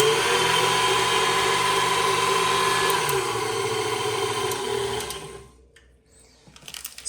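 A KitchenAid stand mixer with a newly replaced worm gear runs with a steady whirring motor hum and faint rattle, then winds down and stops near the end, followed by a few small clicks and handling noises.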